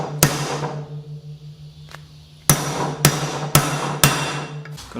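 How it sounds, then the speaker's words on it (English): Sharp metallic hammer strikes seating a seal on an Indian Scout motorcycle, one blow, a pause with faint tapping, then four loud evenly spaced hits close by. "When I finish hammering this down, it's gonna sit in that seal"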